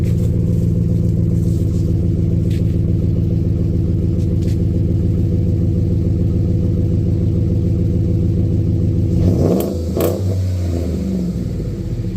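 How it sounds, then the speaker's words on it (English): A Ford F-150 with a Roush exhaust revs hard and steadily for about nine seconds, a loud, deep, continuous rumble close to the microphone, then it drops back with a brief burst of blips at the end. "I'm going to rev it up"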